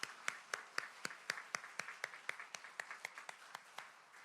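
A church congregation at an Easter service gives the choir, conductor, organist and pianist a round of rhythmic unison clapping, sharp regular claps about four per second, fairly faint in a reverberant hall.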